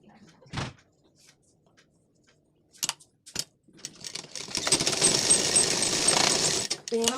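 Home sewing machine stitching tucks on a lined blouse: a few sharp clicks and knocks at first, then a steady, close mechanical whir running for about three seconds before stopping.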